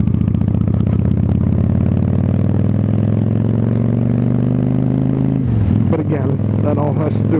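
Honda Shadow Ace 750 motorcycle on an evening ride, its engine holding a steady, loud drone throughout while a voice talks over it.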